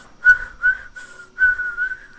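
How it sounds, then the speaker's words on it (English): A person attempts to whistle, producing several short, breathy, thin whistled tones with small gaps between them, close and fairly faint. "attempting to whistle right now"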